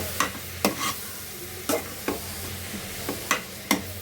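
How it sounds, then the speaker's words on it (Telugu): Drumstick leaves and chana dal curry frying in a pan, soft sizzle under a series of distinct scraping stirs that arrive roughly every half second, close and fairly quiet. "మొత్తం వేసి కలుపుకోవాలండి అంటే మంచిగా ఫ్రై అవ్వనివ్వాలి"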